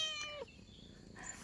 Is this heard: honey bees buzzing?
no